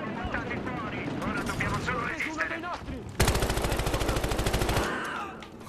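Automatic gunfire in the Battlefield Hardline video game: a loud, rapid burst of shots lasting about a second and a half, following a stretch of excited talk and game noise.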